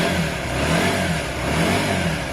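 A 125cc motorcycle engine fires up and revs, its close, loud exhaust note rising and falling in a couple of throttle blips over a rumbling idle, with no talking.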